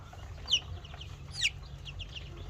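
Young American Brahma chickens, about a month old, give soft, faint clucks and a couple of sharper chirps against a low background hum.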